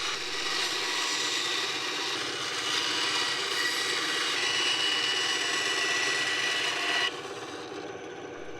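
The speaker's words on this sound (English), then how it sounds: "I'm about to do on camera on my bandsaw" A bandsaw slices a model ship in two, a steady close rasping whine of blade through the hull that cuts off near the end, leaving only a quieter motor hum.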